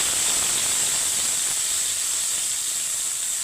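Water-based spice paste for a bhetki fish kalia hits hot oil with a continuous, close, loud hissing sizzle that holds steady throughout.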